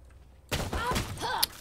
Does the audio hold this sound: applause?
no